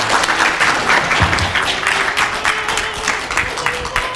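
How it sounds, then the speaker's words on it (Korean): An audience at a history lecture on Balhae in Gwangju breaks into sustained, dense applause, many hands clapping steadily and fairly close for the whole stretch with no voices over it. "큰 박수로 강의 청해 보도록 하겠습니다."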